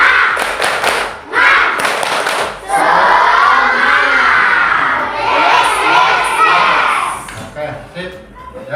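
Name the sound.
class of children doing the tepuk semangat clap chant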